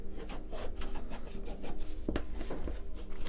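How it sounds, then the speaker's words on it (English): A metal teaspoon pressed and rubbed around the cut edges of tarot cards to flatten scalpel burrs, a close, steady scraping rub with soft repeated strokes and one sharper scrape. "teaspoon or a dessert spoon, and basically all I'm going to do is just go around to the edges and press them on both sides"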